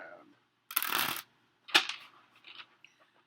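Tarot cards being shuffled close up, two quick riffling bursts about a second apart followed by softer taps and slides of the deck in otherwise quiet surroundings.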